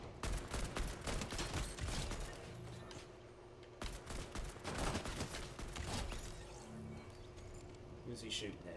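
Video game gunfire, bursts of rapid shots and scattered cracks at moderate level, with a voice talking over parts of it.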